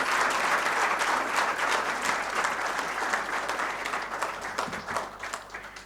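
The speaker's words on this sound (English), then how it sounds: "Can we have a huge round of applause?" Sustained audience applause at a book launch event in Delhi, a dense, even wash of many hands clapping that holds steady and then slowly eases off over several seconds.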